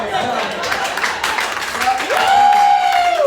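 A comedy festival crowd in Kansas claps in a steady wash while a voice whoops and cheers over it, the applause growing louder toward the end.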